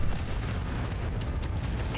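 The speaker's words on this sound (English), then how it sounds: "We don't want to be hit by that explosion" A heavy explosion rumbles in the mech combat game Mechwarrior 5: Mercenaries, a deep booming blast with a few sharp cracking bursts layered over dense low rumble.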